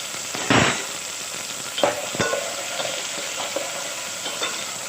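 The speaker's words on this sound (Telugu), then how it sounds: "అన్నీ బాగా మక్కనిచ్చుకోవాలండి ఆయిల్లో" Tomato pieces fry in hot oil with a steady crackling sizzle up close, punctuated by a loud burst and several scraping stirs of a spoon against the pan.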